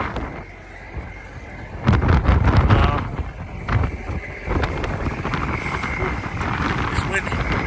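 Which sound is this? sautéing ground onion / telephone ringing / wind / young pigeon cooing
wind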